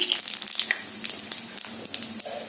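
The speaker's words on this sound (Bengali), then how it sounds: "এই দেখো কড়াইয়ে একটু ফোড়ন দিয়ে নিয়েছি।" Whole cumin, black pepper, cardamom and cinnamon crackle in hot ghee and refined oil in a wok, with a steady low sizzle broken by scattered sharp pops throughout.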